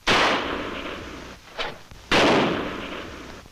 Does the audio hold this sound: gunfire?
yes